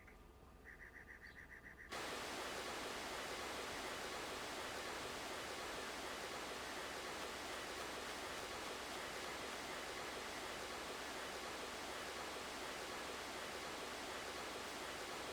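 River water flows in the video game Dark Cloud: a quiet start gives way to a loud, steady rushing wash that continues evenly to the end.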